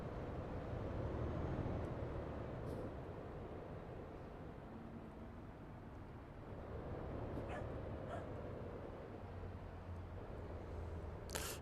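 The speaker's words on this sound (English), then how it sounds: "Shelties are barking in the background." Shetland sheepdogs barking in the background, faint and distant, a few scattered yips and whimpers over low steady engine-like rumble.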